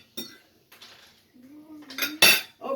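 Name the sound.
cutting homemade cheeseburger with cutlery on plate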